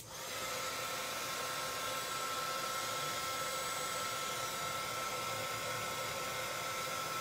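A heat tool blows steadily while drying craft paste on a Thanksgiving place card, a continuous broadband whoosh that starts abruptly and holds at even loudness throughout, near and alone with no talking.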